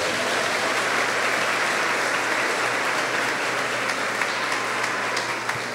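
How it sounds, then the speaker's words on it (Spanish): Audience at an Advent retreat applauding, a dense, sustained round of clapping that stays loud and even for nearly six seconds without a voice over it. "Vamos a darle un aplauso."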